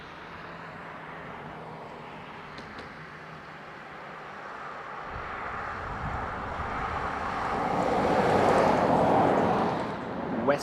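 A WestJet airliner arriving from Toronto approaches Dublin Airport, its engine roar building from a distant hum into a louder, broad rushing swell near the end before easing slightly.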